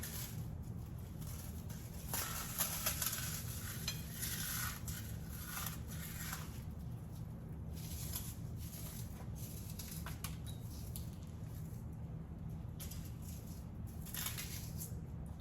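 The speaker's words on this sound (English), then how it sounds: "Now the breadcrumbs we add next, and I just crumble them." Breadcrumbs crumbled by hand while baking, a soft continuous crackly rustle and patter sitting close over a steady low background hum, with no voices.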